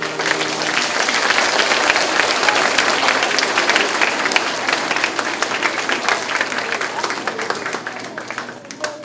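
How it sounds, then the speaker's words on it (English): Applause from a school assembly audience honoring music teachers during Music in Our Schools Week in the Bakersfield City School District, a dense, steady wash of many hands clapping that tapers slightly toward the end. "How about one more round of applause for all the music teachers"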